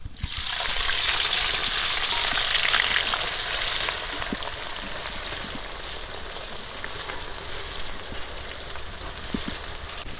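Onions frying in a large pot for goat biryani, a loud, steady hiss of sizzling oil that stays constant throughout with occasional soft stirring clicks.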